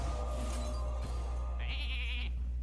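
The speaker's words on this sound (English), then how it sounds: "I kind of want to just turn one of his minions into a sheep" Sheep bleating from a polymorph effect in the Hearthstone video game, a single short wavering bleat rising over a steady low game hum and background music.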